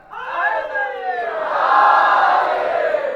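A large crowd at a religious gathering for Yaum e Hussain shouts a slogan in unison, voices rising in a loud sustained chant that swells and holds.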